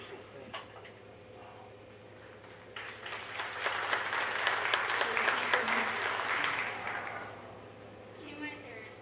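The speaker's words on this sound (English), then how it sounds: "You can hear the clapping." A graduation audience applauds an honoree during an honor cord ceremony, faint and somewhat distant clapping that swells in the middle and then fades, with a speaker talking before and after.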